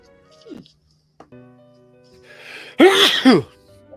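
A single loud, explosive sneeze bursts out after a few quiet moments with faint small noises, close to the listener.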